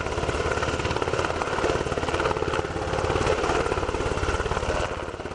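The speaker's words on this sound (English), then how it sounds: "a Wisconsin National Guard Black Hawk helicopter touched down on the football field" A Wisconsin National Guard Black Hawk helicopter lands on a school football field, its rotor chop a loud, steady, dense thumping with continuous engine roar throughout.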